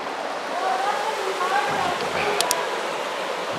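A river flows around a bend, a steady broadband rush of moving water heard from nearby, continuous and even, with a faint high click near the end.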